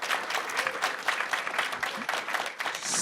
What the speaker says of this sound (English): Please give the gentleman a round of applause.